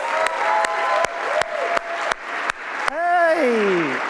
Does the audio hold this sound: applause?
yes